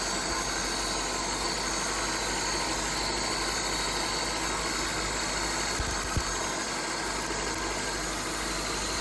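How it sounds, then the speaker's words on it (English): A Suzuki Swift 1.3 petrol engine with misfires on all cylinders idles steadily up close, a continuous mechanical hum and rattle that stays even throughout with one brief knock near the end. "the engine keeps running the same when I pull the ignition cable from the spark plug"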